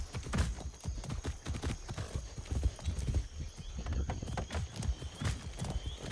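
Horse hooves galloping in the Far Cry 6 video game, a fast, rhythmic, close clip-clop running throughout with faint snorts.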